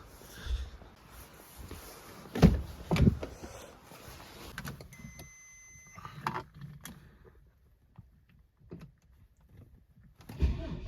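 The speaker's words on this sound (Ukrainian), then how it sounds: "точно так само е, опускаємо ворота назад" A garage gate is lowered with a motor whine in the middle, set among irregular mechanical clunks and rattles, fairly close in a quiet space.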